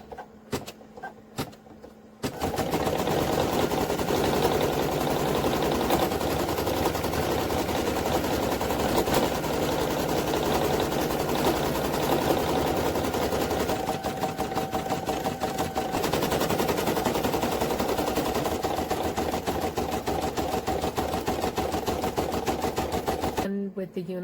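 Embroidery machine running a satin stitch on a hooded towel, a dense rapid needle rattle that starts abruptly after a brief quiet moment and holds loud and steady, close up, with slight shifts in pitch partway through.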